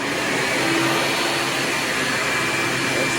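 A Hoover PowerDrive Supreme vacuum cleaner fitted with a HEPA bag runs nearby, giving a loud, steady, unbroken roar of motor and rushing airflow with no pauses.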